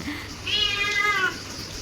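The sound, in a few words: cat meowing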